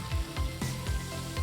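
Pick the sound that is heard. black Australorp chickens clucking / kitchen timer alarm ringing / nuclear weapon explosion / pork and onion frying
pork and onion frying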